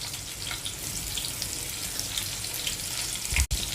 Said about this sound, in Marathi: मग मिरची टाकायची,